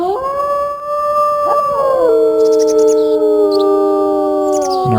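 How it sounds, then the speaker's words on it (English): Wolves howling in the video game WolfQuest, two long overlapping howls that slide downward in pitch, loud and near, with bird chirps scattered in the background. "And our mate howls right along with us."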